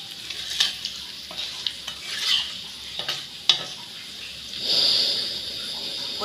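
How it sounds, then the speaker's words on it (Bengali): Suji nimki, rolled semolina dough cut into pieces, fries in hot oil with a steady close hiss, broken by occasional clinks and stirring scrapes and a brief louder sizzle swell near the end. "নিয়ে এই যে ভাজছি"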